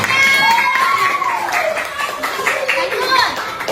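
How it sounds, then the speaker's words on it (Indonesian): Primary school pupils in a classroom clap in brief applause, the clapping running under overlapping children's voices and a teacher talking throughout. "tepuk tangan buat kita"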